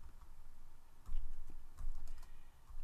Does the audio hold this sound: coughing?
no